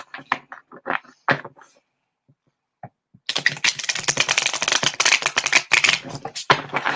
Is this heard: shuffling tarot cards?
yes